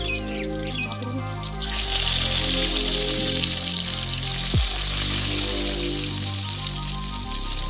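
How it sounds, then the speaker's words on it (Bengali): Milk-soaked bread slices drop into hot ghee mixed with a little white oil and start frying. A brief quieter moment gives way to a loud, continuous close-up hiss and crackle. "আর একইভাবে কেটে রাখা পাউরুটিগুলোকে দুধে এইভাবে ভিজিয়ে নিয়ে ঘিয়ে দিয়ে দিচ্ছি।"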